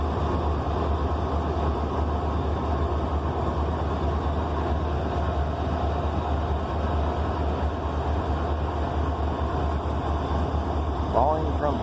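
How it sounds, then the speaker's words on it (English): A freight train with an RNS painted locomotive rumbles steadily past a village crossing, a continuous loud low roar of rolling wagons that holds without a break throughout, with a brief brighter squeal near the end. "There's the only RNS painted locomotive."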